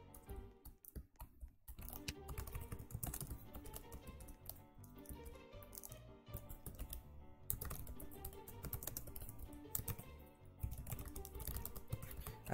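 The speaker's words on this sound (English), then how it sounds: "I'm spending more of my time actually typing than playing" A computer keyboard is typed on in continuous quick bursts of clicks, close and fairly quiet, with no talking.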